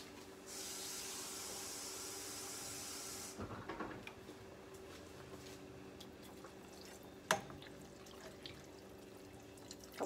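Water is poured steadily into a pot of cooking pinto beans, making a close, continuous hissing splash for a few seconds before it stops, followed by light clinks and kitchen sounds.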